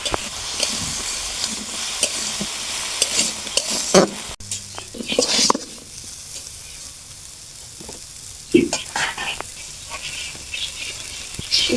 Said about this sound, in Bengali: দিয়ে দেবো লবণ, হলুদ গুঁড়ো। সুন্দর করে ভেজে দিব।